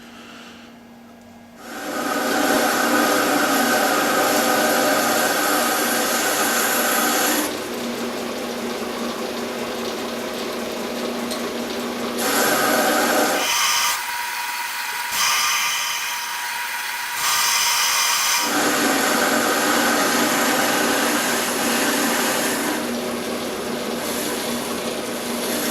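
A metal lathe runs steadily as it turns the short cylindrical end of a Morse taper on a saw arbor, giving off a continuous mechanical hum and whine. Its tone shifts partway through, with a brief change in the middle, and no speech is heard.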